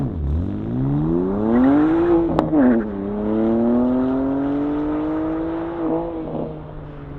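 A BMW, either an M2 Competition or M140i with a six-speed manual, launches hard down a quarter-mile drag strip, its engine note climbing through one gear, dropping sharply at a shift, then rising steadily again, loud and close with no talk.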